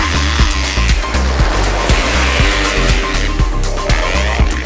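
A 2019 Yamaha YZ250F motocross bike runs hard on a grippy track, its engine droning loud and close with rapid rhythmic revving pulses and throttle surges throughout, no voices.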